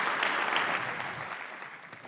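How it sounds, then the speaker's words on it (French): Audience applause at a French expert talk as a guest is invited on stage, a steady dense patter of clapping that fades slightly toward the end, with no talk over it. "On applaudit."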